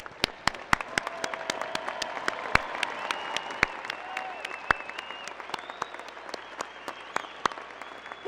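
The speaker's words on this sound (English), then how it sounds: "please stand and let us applaud you" Audience applause rings out at a Weber State University fall commencement as alumni stand to be honored, a steady wash of clapping with sharp individual claps standing out, lasting throughout at moderate loudness.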